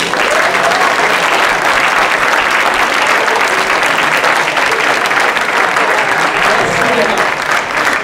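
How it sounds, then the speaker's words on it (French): Loud, dense audience applause for the secretary general at an awards evening, a continuous roar of many hands clapping that holds steady throughout. "je vous demande de l'applaudir"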